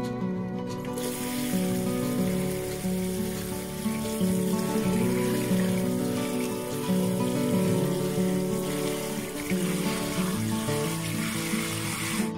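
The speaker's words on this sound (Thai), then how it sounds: "ให้เราเริ่มจากการนำถั่วงอกมาล้างทำความสะอาดก่อนนะคะ" Bean sprouts being gently washed and swished in water, a steady close wash of splashing and trickling that runs without a break, with a tonal hum underneath.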